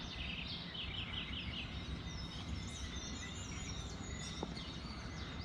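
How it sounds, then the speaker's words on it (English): Birds chirping and calling at early-morning sunrise by a black water creek in Guyana, a steady chorus of overlapping tweets and trills over a constant background hum, with no voices. "listening to the birds chirping"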